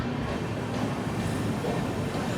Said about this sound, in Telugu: మన ట్రైన్ తాడేపల్లిగూడెంకి దాదాపు 38 నిమిషాలు లేట్గా అయితే వచ్చింది